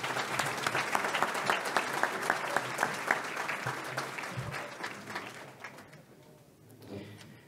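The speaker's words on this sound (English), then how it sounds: "Please join me in a round of applause for the dedication and long-term commitment of these board members." Sustained clapping from a gala audience at an awards ceremony, moderately distant and steady for several seconds before thinning out and fading near the end.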